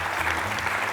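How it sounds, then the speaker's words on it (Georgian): Audience applauding a team called Brazil after a quiz game, a brief burst of steady clapping from a small crowd indoors. "აპლოდისმენტები კიდევ ერთხელ ბრაზილიას."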